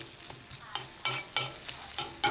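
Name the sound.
stirring vegan Daiya cheese melting in a pan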